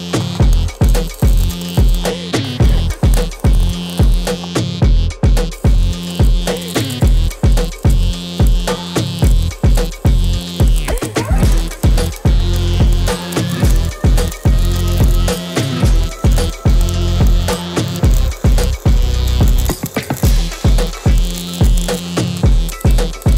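A small welder buzzes and crackles continuously with a steady rhythmic pulsing, loud and close throughout, with no talking.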